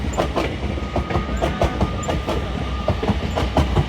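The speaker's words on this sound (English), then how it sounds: "LNER Azuma service from London King's Cross to York" LNER Azuma class 801 unit 801-205 rolling close by on the East Coast Main Line at Doncaster, loud steady rumble with rhythmic clickety-clack of wheels over rail joints and a faint high squeal.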